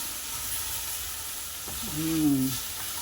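Chopped onions sweating in a pan for lobster pasta give a steady close sizzle and hiss throughout, while a brief low tonal whine rises partway through.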